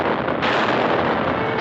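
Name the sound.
warships' guns blasting fire in 1942 Disney film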